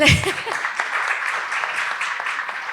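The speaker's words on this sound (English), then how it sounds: "Round of applause." An audience at a lecture on the laws of war breaks into steady applause that continues evenly throughout after a brief voice at the start.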